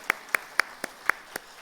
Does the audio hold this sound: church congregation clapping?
yes